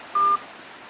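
A telephone keypad gives a single short dialing tone, a clean steady beep about a fifth of a second long, over a faint background hiss.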